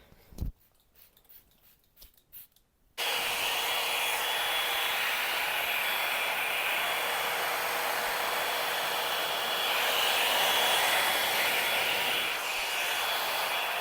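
A hair dryer blow-drying hair switches on after a few seconds of quiet handling clicks and then blows steadily and loudly with a constant whine for the rest of the time, alone without talk.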